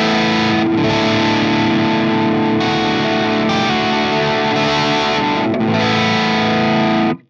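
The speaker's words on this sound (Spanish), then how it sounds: "Ahora lo que tenemos es el canal 2 de mi KSR Colossus, que suena de esta forma" Electric guitar through channel 2 of a KSR Colossus amp set to low gain, strummed chords in a dense, mildly driven wall of sound, loud and continuous, cut off sharply at the end.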